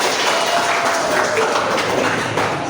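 Classroom applause from a group of students, a dense, even wash of clapping that stays steady and fairly loud throughout the short stretch.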